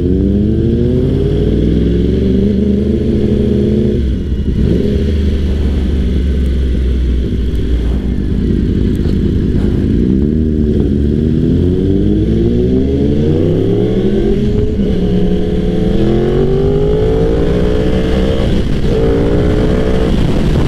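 Yamaha R1 Anniversary Edition motorcycle engine heard while riding, a loud, close, continuous growl that rises and falls through repeated revving and gear changes, with no talk over it.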